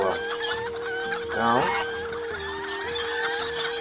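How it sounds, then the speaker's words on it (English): Chickens clucking in the online game Lord of the Rings Online (LOTRO), steady nearby poultry calls over in-game ambience with a brief louder burst midway; someone talks over the sound. "Yes, chickens."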